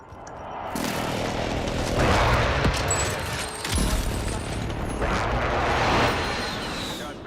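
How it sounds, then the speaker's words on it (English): Airstrike in Call of Duty Warzone, a rolling barrage of blasts and booms building and fading across several seconds, loud and dense, with players talking over it. "I'm gonna try to drop my airstrike on them"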